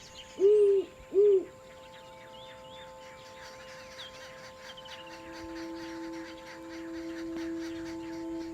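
Two deep, clear hoots from a great horned owl sound near the start, close and prominent, followed by quieter ambient night noise with a faint steady tone.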